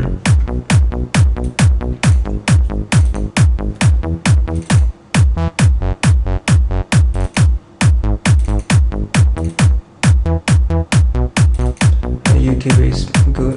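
Disco beat built in FL Studio pounds out loud, evenly spaced kicks over a pulsing bass line, a steady four-on-the-floor rhythm with no voices.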